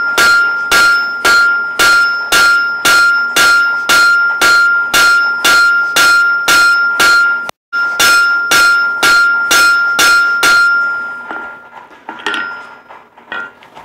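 Hammer blows flatten hot steel into the spade end of a forged hook: about twenty loud, ringing strikes in a steady rhythm, with one brief pause partway through. The ringing then fades out, followed by a few lighter clinks.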